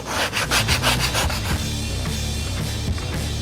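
Rapid rhythmic scraping of sandpaper against wood, strokes coming in quick bursts, then a steadier rubbing hiss, close and loud.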